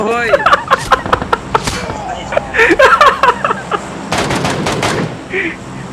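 Gunfire from the battle royale game PUBG during a frantic squad fight, with repeated sharp shots in bursts and rapid volleys mixed with excited shouting from players.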